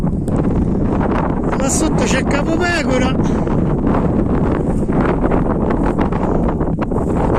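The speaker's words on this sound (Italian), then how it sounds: "C'è vento" Strong wind roars across a microphone on a mountain summit near 430 metres, a loud constant rush with someone talking in Italian over it.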